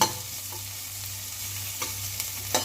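Finely chopped onions sauté in a pan for a soup, producing a steady close sizzle with a few light stirring scrapes.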